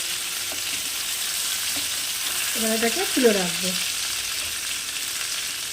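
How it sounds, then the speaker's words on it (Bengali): Pointed gourd (potol) fries in oil in a wok, a steady close hiss of sizzling throughout, with a brief spoken remark in the middle over the frying. "পটলগুলো সাঁতলানো হয়ে গেছে, এর থেকে বেশি কড়া আর ভাজবো না।"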